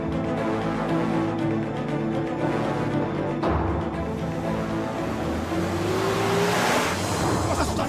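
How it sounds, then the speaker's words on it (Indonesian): A car passes by close, its engine rising and falling over steady background noise, with a brief pitch sweep near the end. "Itu mobil Pak Suta kan?"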